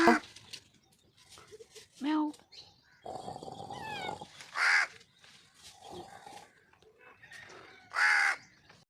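Crows caw harshly several times in a tree where a cat sits playing near them, loud separate calls spread across the scene, mixed with a steady rustling patch and a person talking between the calls.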